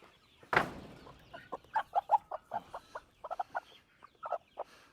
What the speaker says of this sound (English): That hen is broody.